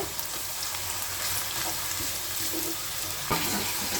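Onions frying in a pan give off a steady, fairly quiet sizzle and crackle that runs unbroken throughout, with a faint clink near the end.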